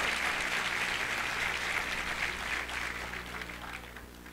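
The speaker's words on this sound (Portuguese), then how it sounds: "Uma salva de palmas para Matej Kozir, direto da Eslovênia, hein?" Audience applause for Matej Kozir at the opening ceremony of the 6th Freemind International Congress 2019, a full steady clapping that gradually thins and fades toward the end.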